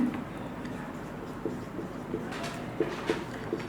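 Coordinates are written down by hand during a maths lesson, giving soft, intermittent scratching and a few light taps. The sound is quiet and close over a steady low room hum.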